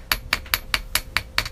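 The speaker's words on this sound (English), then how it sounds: "I'm getting my chasing hammer, and I'm going to hammer. It's going to be a little loud" A chasing hammer strikes a wire hairpin on a steel bench block in light, even taps, seven sharp metallic clinks at a steady rhythm, close and fairly loud.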